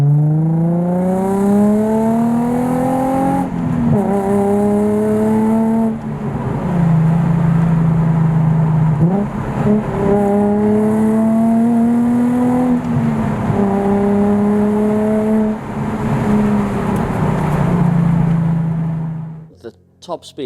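A lowered purple 2003 Nissan 350Z engine revs loudly while driving, rising steadily through each gear and then dropping at every shift in a repeated climb-and-shift pattern. The sound is close and continuous, with speech mixed under it.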